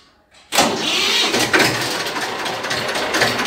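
A 2001 TAFE 25 tractor engine cranks on its self-starter and catches at once, then settles into a loud, steady, close idle.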